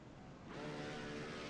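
A race car engine in a racing video game at VIR, idling low and then swelling into a loud, steady rev about halfway through, as if poised to launch.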